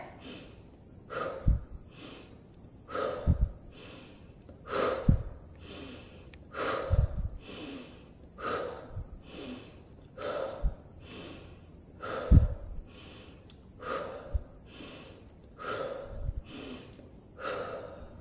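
Forceful audible breaths during a relaxation breathing exercise: a rhythmic series of about a dozen deep inhales and noisy exhales, close to the microphone and repeating every second or two without talk.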